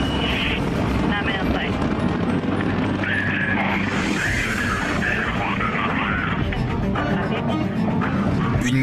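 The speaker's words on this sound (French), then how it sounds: "Puis des tonnes de carburant s'enflamment dans les moteurs du Soyouz." Soyuz rocket engines roaring at launch, a dense, loud, continuous rumble across the whole stretch with no letup, under a broad wash of noise.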